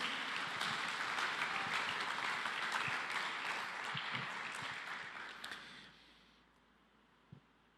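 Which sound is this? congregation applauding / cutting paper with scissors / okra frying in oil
congregation applauding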